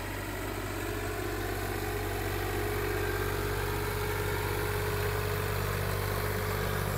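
A Massey Ferguson 260 Deluxe tractor pulling an 18-disc harrow runs with a steady, continuous engine drone, loud and close, with no talk over it.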